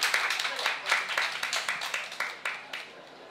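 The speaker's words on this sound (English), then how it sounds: "Round of applause for Yu Mia" Scattered audience claps greet a speaker taking the stage at a gallery speaking event, a light run of distinct individual claps that thins out over a few seconds and is fairly faint.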